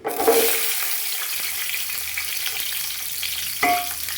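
Onions for coconut chicken biryani frying in a pan, a steady hissing sizzle with a sharp burst at the start and another around the end as they are stirred.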